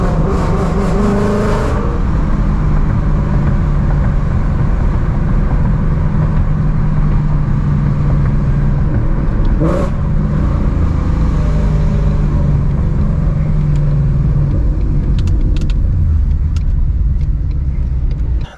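A Ford Mustang engine pulls steadily in third gear on a night drive, a continuous loud low rumble with a rising tone and a brief higher whine near the middle, heard from inside the car with no talking.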